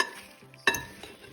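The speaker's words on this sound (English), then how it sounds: "now we mix it" A spoon stirs a mixture seasoned with nutmeg and cloves, giving one sharp clink against the bowl amid faint scraping.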